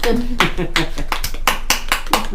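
A small family group, a grandmother and her grandchildren at home in Malappuram, claps their hands in a steady run of sharp claps about three per second, mixed with talking voices.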